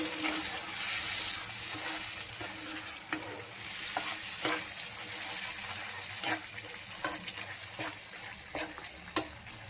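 Drumstick curry with black masala paste is stirred in a pan after a splash of water, giving a steady soft sizzle with scraping spoon strokes and occasional clinks, close and moderately quiet.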